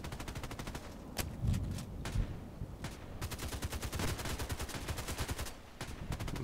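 Suppressed VSS Vintorez rifle fire in a video game, rapid bursts of muffled cracking shots in quick rhythmic strings with brief pauses, loud and close.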